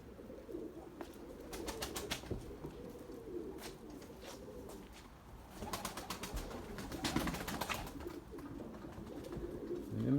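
Young white pigeons eat scattered wheat and take off. Close, rapid wing flaps and fluttering bursts come through steady cooing and soft outdoor background noise.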